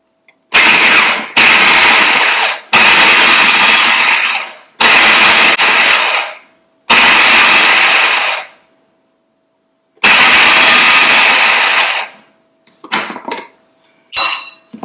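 An electric food processor chops onion for kebabs in short pulsed bursts, about six loud whirring runs separated by brief pauses, then a few shorter rattling taps at the end.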